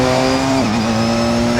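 A Porsche 919 Evo hybrid race car, rated near 1,200 brake horsepower, roars loud and close with a sustained high engine tone that dips briefly in pitch before holding steady.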